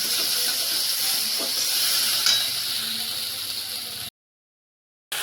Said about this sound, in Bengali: মশলাটা কি যতক্ষণ না তেল ছাড়ছি, মশলাটা ভালো করে কষাতে হবে।